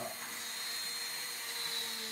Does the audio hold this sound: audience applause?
no